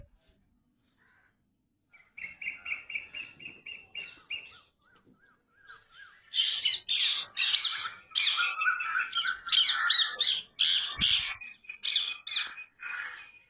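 Birds call at sunrise over a terrace garden during the Pongal harvest, starting after a quiet moment with scattered chirps, then swelling into loud, overlapping squawks and caws close by.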